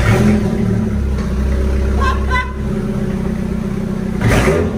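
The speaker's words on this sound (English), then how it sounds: "Let's see what a straight pipe S10 sounds like." A Chevrolet S10 pickup running with a straight pipe exhaust: a loud, close, rumbling idle with a few brief revs, its steady low growl filling the clip while people talk faintly nearby.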